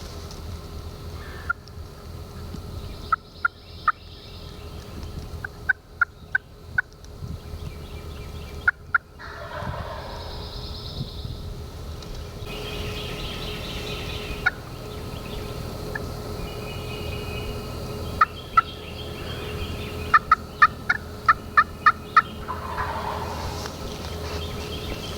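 Wild turkeys gobble in bursts from a distance, several rattling calls spread across the clip over steady outdoor ambience with faint bird chatter.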